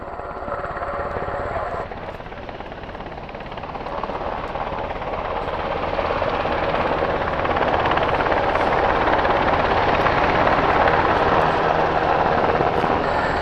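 A Black Hawk helicopter with a canted tail rotor performs a flying display at the RIAT 2025 air show, its steady, loud rotor and turbine roar building gradually and staying heavy throughout.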